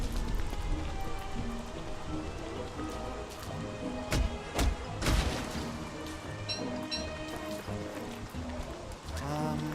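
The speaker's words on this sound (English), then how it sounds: "Why is it raining so much?" Rain from the video game Don't Starve, set in a swamp in autumn, patters steadily on surfaces with a few louder crackling bursts, continuous and fairly loud alongside game music.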